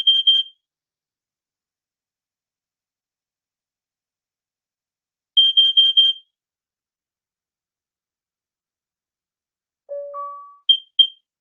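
A smart smoke and carbon monoxide detector running a self-test: a single short high beep, then a quick cluster of four beeps, then a falling two-tone chime and two final high chirps, crisp and isolated against silence.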